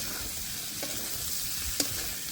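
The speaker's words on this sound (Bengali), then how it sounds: "ডালটা দিয়ে ভালো করে কষে নেব।" Chana dal frying and being stirred in a pan for a vegetarian potato and pointed gourd dish, a soft steady sizzle with a couple of faint scraping clicks from the stirring.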